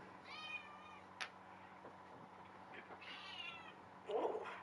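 A cat lets out a couple of faint, drawn-out meows after being picked up indoors, one near the start and another partway through, over a quiet background hum.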